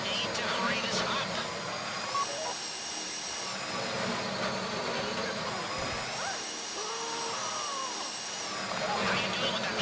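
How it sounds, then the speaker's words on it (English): A drill bores steadily into a box during a GTA 5 heist, a continuous whine that holds through the whole stretch while voices talk over it. "How you doing with that drill?"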